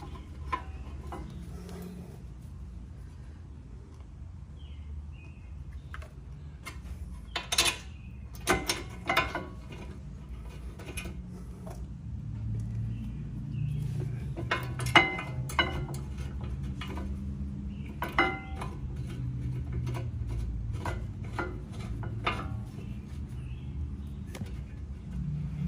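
Lug nuts threaded on by hand onto a rear wheel of a 2018 Ford Edge during a brake and hub job: light metallic clicks and rattles come in scattered bursts over a low steady background hum, with no speech.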